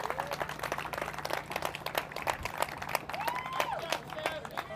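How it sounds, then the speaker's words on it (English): A crowd claps and cheers for Staff Sergeant Seth Galloway, third-place finisher at an Air Force Alpha Warrior Championship race, a steady, moderately loud patter of hands with an announcer's voice over the applause. "Round of applause for Seth."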